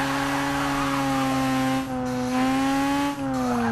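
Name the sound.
rotary-engined car doing a clutch kick, tires squealing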